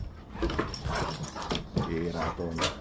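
Pet dogs whimpering and yipping nearby, with soft whines coming in short bursts while a person talks over them.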